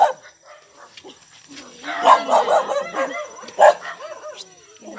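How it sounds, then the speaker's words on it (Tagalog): A pet dog at a rural Bicol home gives a run of short, close barks and yips, some sharp and some whining, interspersed with quieter moments. "Ayan po yung aming aso, si Dugi."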